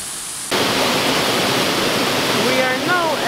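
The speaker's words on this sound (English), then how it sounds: "Now we're at the second waterfall." Second waterfall on the Elidir Trail in the Brecon Beacons: a loud, constant broadband rush of falling water starts abruptly and holds steady, with a few high birdlike chirps appearing near the end.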